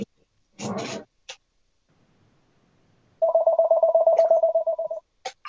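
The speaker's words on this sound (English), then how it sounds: "Yeah, phone's ringing." A buzzing, pulsing electronic phone ring lasts nearly two seconds after brief clicks and a short rustle, with small sharp sounds trailing after.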